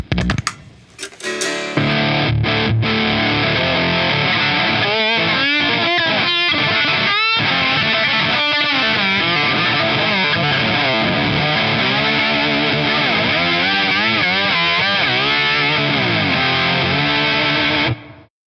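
A lap steel guitar played through Mr Glyn's pickups, ringing sustained notes with sliding pitch bends and bright, slightly driven tone, loud and close, alone without talk for nearly the whole passage.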